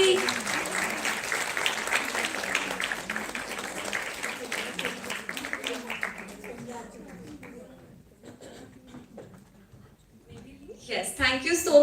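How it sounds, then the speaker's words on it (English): An audience at the WICCI Health Conclave in Chandigarh claps in warm, sustained applause that thins out and fades after about seven seconds. A brief burst of sound follows at the end. "a big round of applause for the beautiful lady"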